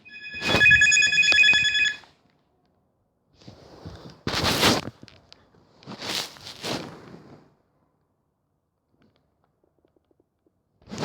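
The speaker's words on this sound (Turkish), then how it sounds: "Telefon çaldı." A telephone rings twice in quick, bright electronic bursts. Scattered bumps and shuffling noises follow in an otherwise quiet room, with no talking.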